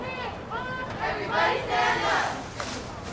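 Haybalers JV cheerleaders chanting in unison at a junior varsity football game between San Benito and Bellarmine, a few rising, rhythmic shouted calls heard from a distance over crowd murmur.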